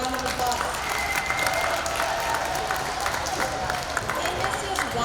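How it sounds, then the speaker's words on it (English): A school audience applauding at an elementary awards ceremony, dense sustained clapping from a large crowd filling the hall evenly from start to finish, with faint voices mixed underneath. "Let me give them a round of applause."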